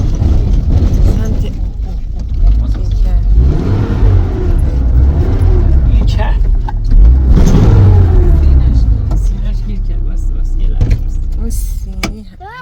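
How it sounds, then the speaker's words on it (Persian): A car stuck on the cracked, dry bed of Lake Hamun revs its engine hard in long loud strained surges, with voices talking over it. "ماشینمون گیر کرد."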